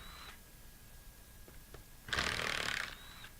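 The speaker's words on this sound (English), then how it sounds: "I'm going to take the 4 socket head cap screws out of the inner chamber." Socket head cap screws being unscrewed from the inner chamber of a SANDPIPER S15/S20 non-metallic air-operated pump, heard as a single burst of close ratcheting tool noise lasting under a second, with faint ticks and a quiet background before it.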